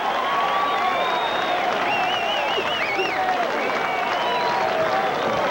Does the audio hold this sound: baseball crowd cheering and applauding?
yes